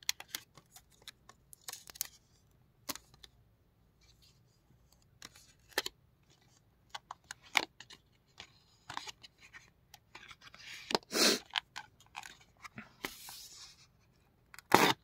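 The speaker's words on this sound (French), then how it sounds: "Je retire la petite colle," Adhesive being peeled and torn off a plastic steelbook case, heard as quiet scattered crackles and sharp ripping bursts with silent gaps, close and without talk.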